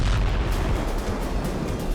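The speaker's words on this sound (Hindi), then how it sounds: "धमाके से कर्च ब्रिज और कई मील दूर तक इलाका दहल उठा।" A deep, rumbling explosion at the Kerch bridge as an air-defence missile destroys two rockets, heard as a sustained loud roar with low booming and crackle throughout, with no voices.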